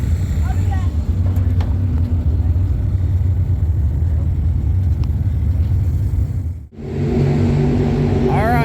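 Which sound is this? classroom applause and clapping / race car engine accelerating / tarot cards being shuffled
race car engine accelerating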